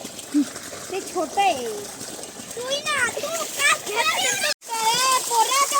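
Children splash about while swimming on a hot summer afternoon, with light intermittent splashes under near continuous chatter and shouting of kids.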